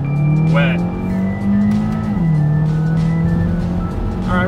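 New Kia Soul driving on a wet road in second gear at about 20 mph, its engine droning steadily with a pitch that dips and holds, loud and close under the car.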